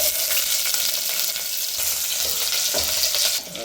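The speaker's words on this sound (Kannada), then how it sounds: "ಈಗ ಎಣ್ಣೆ ಕಾದಿದೆ ಅದಕ್ಕೆ ಕಟ್ಟಿ ಹೆಚ್ಚಿಟ್ಕೊಂಡ್ರಂತ ಸ್ವಲ್ಪ ಈರುಳ್ಳಿ ಹಾಕೋಣ" Chopped onion hits hot oil and sizzles loudly and continuously, with occasional stirring scrapes in the pan, the hiss easing slightly at the very end.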